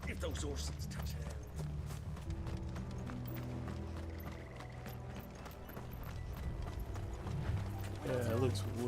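Horse hooves clip-clop steadily in Final Fantasy 16, mixed under a dense, continuous game soundtrack that stays fairly loud throughout.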